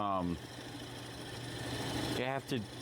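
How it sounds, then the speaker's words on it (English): A wood lathe runs at low speed while a bit drills through a wooden workpiece, giving a steady, close mechanical drone, with brief speech at the start and end. "So we keep this at a nice low speed. And we just drill through like this."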